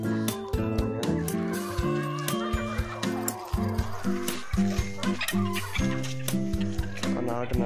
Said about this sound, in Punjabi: ਚਲੋ ਜੀ ਆਹ ਦੇਖੋ ਸਾਰੀਆਂ ਇਕੱਠੀਆਂ ਹੋ ਗਈਆਂ ਮੁਰਗੀਆਂ